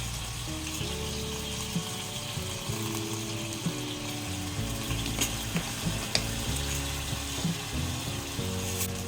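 Soy sauce hitting squid frying in a pan for adobo, a steady close sizzle with recurring clicking, ratchet-like stirring sounds, no talk.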